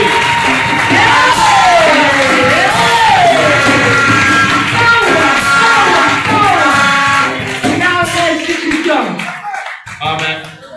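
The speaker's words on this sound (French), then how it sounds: "Acclame pour la gloire de Dieu." A church congregation at a testimony service cheers and acclaims loudly, a dense swell of shouts and voices with a voice rising above it, then tapering toward the end.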